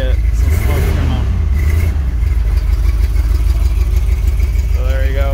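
A 1979 Jeep Cherokee Chief engine, puffing blue smoke, is revved a couple of times from idle. Loud, close, steady engine drone with rising rev sweeps, and someone talks over it.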